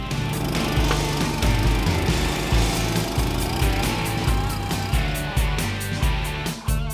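A mini loader fitted with a 4-in-1 bucket grading and preparing soil for turf laying, its small engine droning steadily under intermittent scraping and clunking from the bucket.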